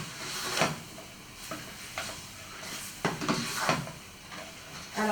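Salted cod fries in a pan and is turned for stuffed peppers, a steady sizzle and hiss broken by several scraping, stirring strokes close by.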